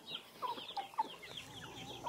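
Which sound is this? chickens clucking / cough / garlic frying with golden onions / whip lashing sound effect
chickens clucking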